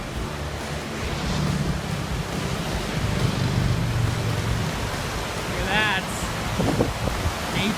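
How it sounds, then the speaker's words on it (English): A mountain creek beside the Beartooth Highway rushes in a steady, broadband wash of flowing water close by, with a brief faint voice-like sound near the end. "There's a creek over here this way."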